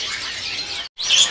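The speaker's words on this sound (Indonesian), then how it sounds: "Oke, Beo siulnya teman-teman ya." A hill myna whistles at a bird market, loud, bright and close, holding a sustained call that breaks for a brief pause and then resumes.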